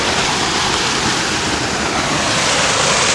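Water from a hydraulic system pours into a blue bowl micro sluice as a loud, steady rushing flow, close and continuous with no talking.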